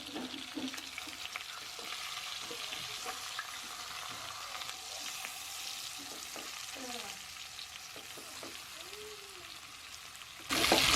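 Chicken shallow frying in a pan for mandi, a faint, even sizzle with scattered soft clinks and scrapes from turning the pieces, ending in a sudden louder burst of noise.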